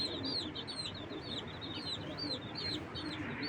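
Soft cooing from silver Giribaj racer pigeons, repeated calls over a steady noisy background of birds and room sound, with no talk.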